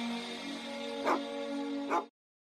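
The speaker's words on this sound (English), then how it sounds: "a nice soundscape of one small dog barking" Two short, sharp yaps from a small dog over a sustained droning horn tone, both stopping abruptly into silence.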